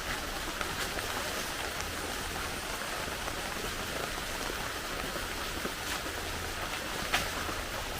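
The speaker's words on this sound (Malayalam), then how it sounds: "രാവിലെ നല്ല മഴ." Heavy morning rain falls in a steady, dense hiss that holds unbroken and fairly close throughout, with no voices.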